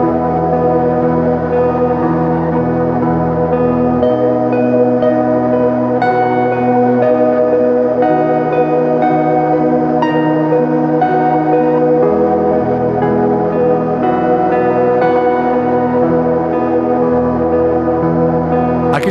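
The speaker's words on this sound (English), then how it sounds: "It's a half-speed lo-fi pitch down reverb and delay with reverse." Slow, dreamy guitar through a half-speed lo-fi pitch-down effect drenched in heavy reverb and reversed echoing delay, pitched low with a warbly texture, playing continuously without voices.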